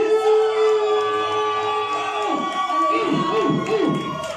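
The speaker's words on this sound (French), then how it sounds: "Ce sont ces cris qui vont ouvrir le ciel." A church congregation shouts and cheers during a worship service, with loud, sustained crowd noise and voices rising and falling in several waves toward the end.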